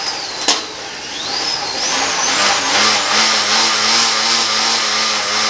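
A cheap Amazon bike trainer revs up under fast pedaling, its whine rising and wavering in pitch while a steady drone builds and holds loud and close, with a brief sharp click near the start.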